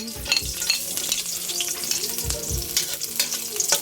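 Garlic fries in very hot oil in a pan, a loud close crackling sizzle with scattered spits and stirring scrapes, and no talk.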